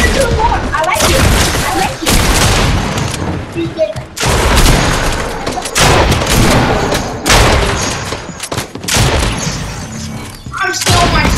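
Rapid bursts of gunfire and heavy booms in a Fortnite match, loud and repeated across the whole stretch with brief gaps, mixed with voices talking.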